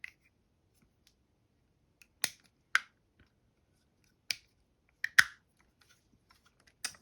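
Plastic pieces of a Transformers Soundwave toy click sharply during transformation, about six crisp snaps at irregular intervals in near silence.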